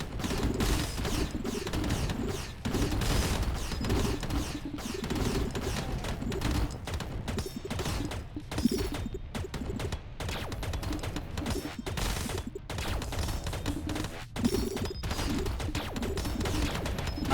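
Missiles fire in rapid bursts in a space rock shooter video game, a busy barrage of crackling explosive blasts layered over continuous game sound.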